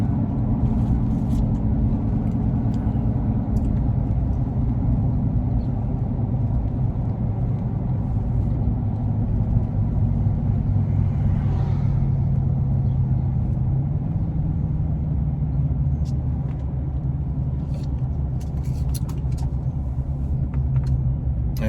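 A car's engine rumbles steadily from inside the cabin while driving, a constant low droning hum with road noise and occasional small ticks, no voices.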